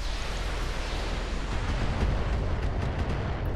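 Missile fire in the mech game Battletech comes as a dense, roaring rush of noise with rumbling lows, loud and sustained for several seconds, a few crackling streaks near the end.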